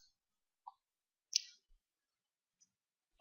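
Computer mouse clicks, a few sparse, sharp, close taps separated by quiet gaps, one slightly louder than the rest.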